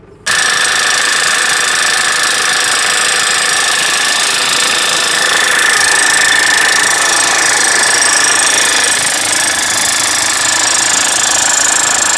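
A power hammer drives a modular grounding rod into the ground, a loud continuous rapid hammering that starts abruptly and runs unbroken and close-up for the whole stretch, with no speech.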